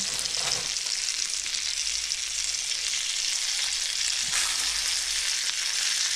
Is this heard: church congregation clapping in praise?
no